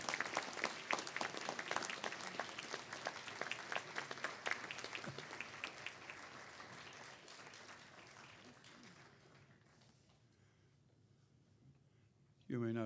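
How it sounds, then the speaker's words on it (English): A graduation audience at a Griffith College Dublin ceremony breaks into loud sustained applause that thins and fades over about ten seconds, before a voice briefly starts up right at the end. "express thanks for the support you've received over the years of your study by acclamation, applause, or cheers"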